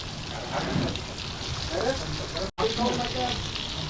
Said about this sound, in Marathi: खालच्या बाजूने फ्राय झाले असतील मासे